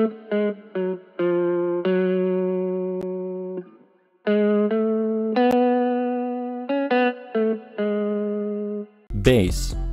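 A sustained electric guitar loop made in FL Studio 20, drenched in reverb and chorus, ringing out slowly in a repeating phrase, ending with a sudden noisy burst.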